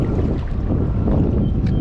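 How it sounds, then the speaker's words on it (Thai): Strong wind buffets the microphone outdoors while fishing on a cold day, a continuous loud low rumble with gusting texture and no voices. "ลมแรงมาก"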